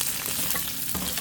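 Garlic and onion frying in cooking oil for chicken adobo, a steady close hiss of sizzling with faint stirring scrapes and no voices.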